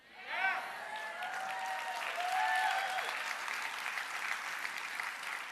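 Audience applause at a gathering, a steady wash of clapping that swells after a moment and holds, with a voice speaking over it near the start.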